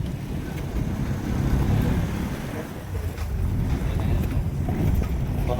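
Auto-rickshaw carrying seven passengers rumbles along, with a continuous engine drone, road noise and wind rushing past the open sides at close range.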